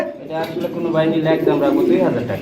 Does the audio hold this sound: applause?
no